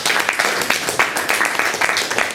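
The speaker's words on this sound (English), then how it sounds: "Can we get a round of applause," A roomful of people gives a round of applause after a presentation at a student debate, brisk clapping from a modest crowd, fairly close and continuous with irregular peaks across its short length.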